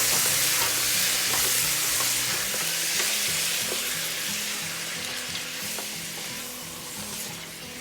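Mutton sizzles loudly in a frying pan while being stirred, a steady dense fry with repeated scraping strokes of a spoon and a low rhythmic pulse underneath, no voices.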